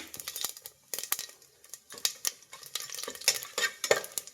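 Whole spices such as cloves, fennel and shahjeera fry in oil with cashews for green peas pulao, a close crackling sizzle broken by bursts of spoon-and-pan clatter as everything is stirred quickly.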